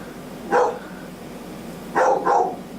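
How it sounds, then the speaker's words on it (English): A dog barks three times: one sharp bark near the start, then a pause, then two quick barks close together, fairly near and clear over a quiet indoor background. "Oh, shut up, dog."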